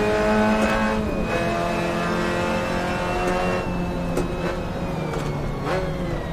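A manual race car in Assetto Corsa holds a steady engine drone with clear harmonic tones, the pitch shifting slightly with a few brief revving blips, loud and continuous with no talking.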